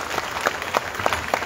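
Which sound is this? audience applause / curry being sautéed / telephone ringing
audience applause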